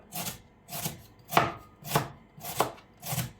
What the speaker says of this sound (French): mon oignon. Lui, ce que je vais faire, je vais l'émincer très finement.